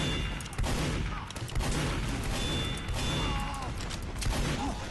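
Rapid, dense shotgun blasts from a scattergun in Team Fortress 2, a multiplayer first-person shooter match, firing continuously with overlapping game effects and a voice in the background.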